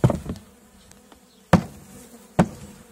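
Honeybees and a drone buzzing around an opened hive during a June queen search, close buzzing with three sharp knocks or bumps against the hive woodwork.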